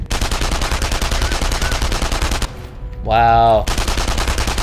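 Rapid gunfire in the first-person shooter video game Enemy Front, dense repeated shots filling most of the clip, a short pause with a man's brief exclamation, then shooting resumes.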